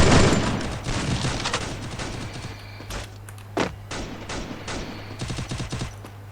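Gunfire fills a round of the video game Free Fire, with dense bursts of automatic fire, a steady low hum and scattered single shots. One sharp loud crack stands out, and rapid firing picks up again toward the end.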